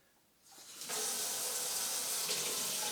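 Tap water runs steadily from a faucet to rinse a film developing tank at home, starting with a quiet lead-in and then gushing loud and constant for the rest of the clip, with no talking.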